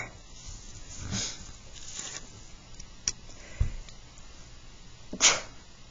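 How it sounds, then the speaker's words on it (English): A short sharp sneeze bursts out near the end, with a few quieter breathy sounds and clicks earlier in a quiet room. "Sorry, had to sneeze."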